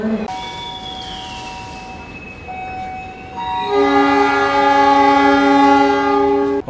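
A Pandalungan passenger train departs Bojonegoro station at night. A long steady horn sounds, then grows louder and fuller with several tones, over a low rumble of rolling stock.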